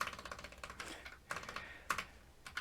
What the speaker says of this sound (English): typing is not my strong suit, so that's going to be fun